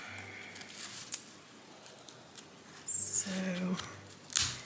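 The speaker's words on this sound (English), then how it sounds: "I'm cutting those stems" Garden shears snip through dahlia stems on dug tubers, giving a few sharp close cuts amid handling noise, with a person speaking alongside.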